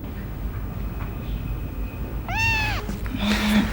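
A stray cat gives one clear, drawn-out meow near the middle, heard over a steady low background rumble, with a faint higher squeak just after.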